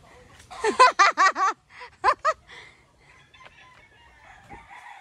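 A chicken clucks in a quick series of loud, close cackles, then a couple more squawks, followed by quieter scattered sounds.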